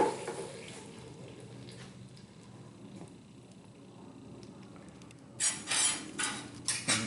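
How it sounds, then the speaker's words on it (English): Hot metal support blocks from reworking an old AMT drill press are dumped into a water bucket, giving a splashing, hissing burst near the end after quieter background clatter. "We'll dump our support blocks here in the water bucket."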